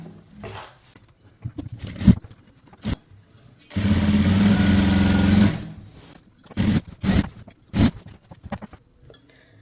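A sewing machine runs in one steady burst of about two seconds, stitching along a folded chudithar fabric edge, with scattered handling clicks and rustles before and after.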